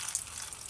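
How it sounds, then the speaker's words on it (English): Tap water gushes steadily and alone while deboned chicken is rinsed with a few drops of white vinegar in a kitchen sink, a brief, even, hissing flow. "add a couple drops of white vinegar along with water and then kind of rinse the chicken off properly"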